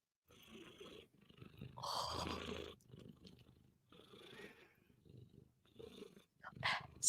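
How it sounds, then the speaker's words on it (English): A pet cat named Luna purring up close in a soft, low rumble that swells and fades in uneven bursts, with a voice cooing over it. "I can hear the purrs."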